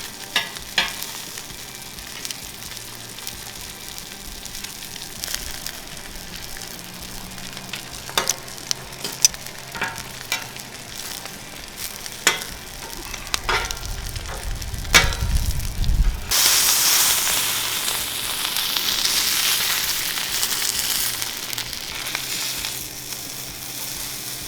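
Garlic and green beans searing on a Breeo X30 flattop griddle, a steady close sizzle that swells into a loud, bright hissing fry partway through and keeps crackling on its own.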